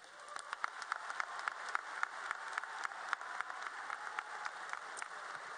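Audience applause at a 2018 high school graduation ceremony, a steady wash of many hands clapping at moderate distance with sharper individual claps standing out, no voices over it.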